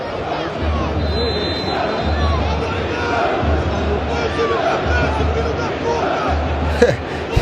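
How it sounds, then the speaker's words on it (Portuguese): Corinthians fans in a packed stadium chanting insults at a Cruzeiro player: a dense, continuous roar of massed voices from a distance, with a low rhythmic pulse running through the crowd noise. "Só dá pra ouvir a torcida xingando ele"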